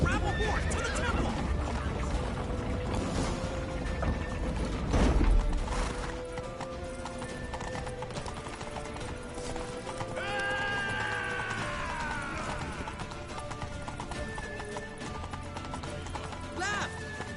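A horse whinnies loudly amid galloping hoofbeats in the video game The Witcher 3: Wild Hunt, with a second long neigh midway and a busy, layered game soundscape underneath.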